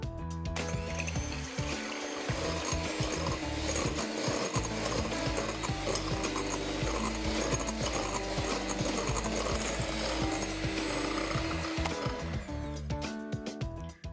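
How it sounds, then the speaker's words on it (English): An electric mixer whisks egg whites toward soft peaks for a souffle omelette, a loud continuous whirring hum with rattling of beaters against the bowl, running steadily before cutting off near the end. "This also helps stabilize the structure of the egg whites as you whisk them up"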